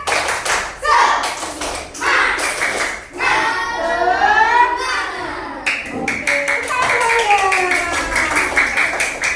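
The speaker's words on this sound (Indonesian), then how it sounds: "Coba semuanya, tepuk semangat." A school class in a mathematics lesson performs a 'tepuk semangat' clapping routine: sharp rhythmic group claps and taps alternate with children chanting together in unison, close and lively.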